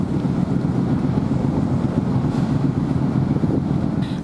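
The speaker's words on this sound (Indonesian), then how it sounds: "Angin kencang dan gelombang laut yang kuat di Pelabuhan Bakauheni, Lampung membuat kapal feri sulit bersandar" Strong wind buffeting the microphone with rough sea noise at Bakauheni ferry port in Lampung, a loud, continuous broadband roar without any voices.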